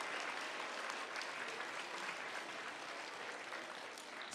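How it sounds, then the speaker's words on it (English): Audience applause at a first-grade Lunar New Year school assembly, a steady wash of many hands clapping that holds evenly from start to finish at moderate distance, with no talk over it. "give them a big round of applause"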